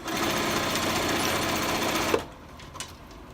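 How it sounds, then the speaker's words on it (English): A sewing machine stitches steadily around a fabric folded star coaster, its fast, even whirr running for about two seconds before it stops and a few light clicks follow. "I lift it up, I sew around it again"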